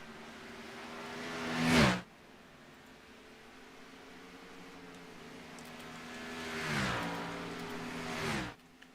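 Race cars lapping Road America in a racing video game, two passing by with a rising roar that cuts off sharply, the first around two seconds in and a second pair later, steady engine drone between.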